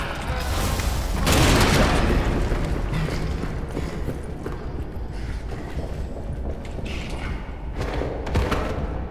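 A bridge is shot and comes down in the horror game Amnesia: The Bunker, a heavy rumbling boom that swells early on, followed by a continuous crumbling roar and scattered thuds from debris.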